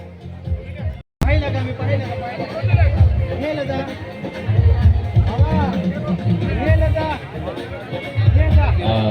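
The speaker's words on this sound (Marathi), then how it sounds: "थोड़ी गर्दी होता है।" Crowd babble at an Indian wedding, a steady hubbub of many overlapping voices, close and fairly loud, with one brief dropout early on.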